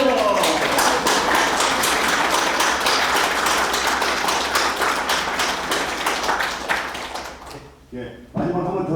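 Audience applause at a company new-year kickoff ceremony and president's inauguration, a dense burst of many hands clapping during a cake-cutting, fading toward the end with a voice coming in afterward.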